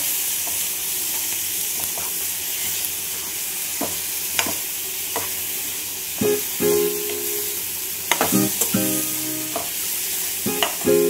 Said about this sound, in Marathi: आता आपण ते कारले घेतलेले होते ते टाकूया।